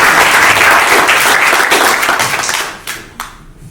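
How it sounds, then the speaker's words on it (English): A workshop audience gives a loud round of applause, a dense wash of clapping that holds steady before thinning out into a few scattered final claps. "Round of applause for Grandad."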